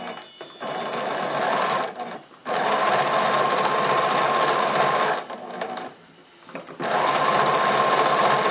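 A sewing machine stitches a stocking in three sustained runs of fast, even whirring, separated by short pauses and quieter handling, with no voices.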